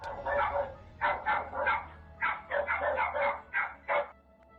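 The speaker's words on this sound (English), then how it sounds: "At first, it was just one dog barking. Then, it was the whole neighborhood" Dogs barking loudly and close by at night, a rapid series of sharp barks in uneven bursts with brief pauses between them.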